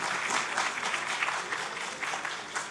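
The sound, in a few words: audience applause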